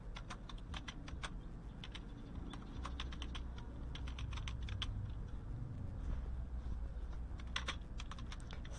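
Password being typed on a computer keyboard, a faint, quick, irregular run of key clicks over low background rumble.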